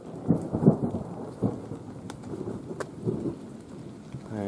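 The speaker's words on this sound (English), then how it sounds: "And here's the rain." Rain and thunder on the Appalachian Trail near Kelly Knob, steady rain pattering on surfaces beneath deep rolling thunder rumbles that swell and fade.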